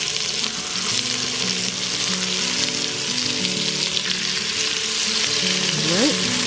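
A well-done steak fries in a pan with butter after flipping, a loud, constant close sizzle with crackling spatter, and a faint voice and low hum beneath it.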